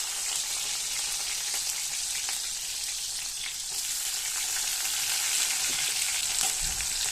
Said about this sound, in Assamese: জলকীয়া পিঁয়াজখিনি দি দিলোঁ।